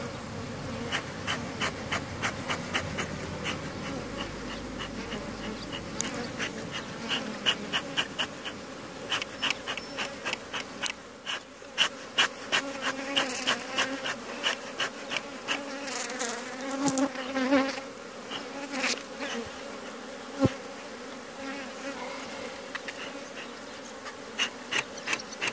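Honeybees buzz at an opened hive during an inspection and sugar-syrup feeding, making a dense, steady hum with louder individual bees zipping close past the microphone again and again.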